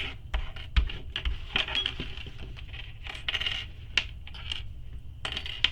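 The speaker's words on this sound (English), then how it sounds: "Now I have that sewn, I'm going to remove all my clips." Small sewing clips are pulled off freshly stitched fabric, giving a close run of sharp plastic clicks and light snaps at an uneven pace, with soft rustling of the fabric underneath.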